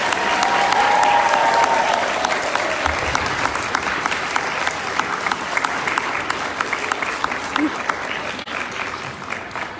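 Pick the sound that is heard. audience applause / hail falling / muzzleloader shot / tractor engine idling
audience applause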